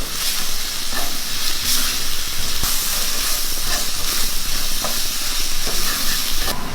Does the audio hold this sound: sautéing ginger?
yes